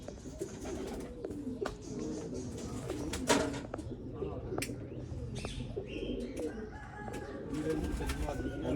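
A breeder pigeon in Sialkot coos among other pigeons, with low cooing and scattered chirps throughout, some sharp clicks, and a voice heard faintly at times.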